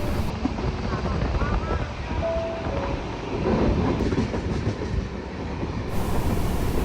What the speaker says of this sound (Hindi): बांद्रा टर्मिनस से हरिद्वार को चलने वाली हरिद्वार एक्सप्रेस भी हमें क्रॉस करती हुई नजर आ रही है